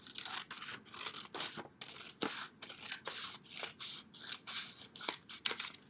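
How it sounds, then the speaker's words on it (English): Scissors snip repeatedly through a sheet of paper, cutting it into long strips along folded lines; a steady rhythm of close, crisp crunching cuts with no talk. "you're going to cut along those lines"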